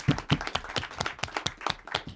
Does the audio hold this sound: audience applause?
yes